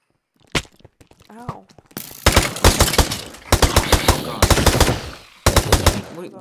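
Gunfire in a modded Minecraft game, loud rapid bursts of automatic shots in several strings with short pauses between them, close and sharp, after a few quieter clicks and a brief voice.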